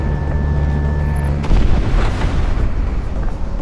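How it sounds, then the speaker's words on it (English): A missile fires from a jet fighter in an aerial dogfight: a sudden loud whoosh-boom burst, followed by a dense roaring rush that stays heavy and sustained under the engine drone. "Missile away"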